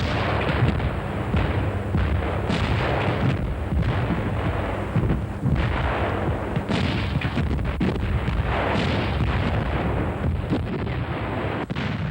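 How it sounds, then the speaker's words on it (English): Rapid fire from German IG 18 infantry guns in 1941 North Africa wartime footage, a continuous barrage of booms and blasts over dense wind and crackle, with no voices. "this film of these guns being used in North Africa in 1941"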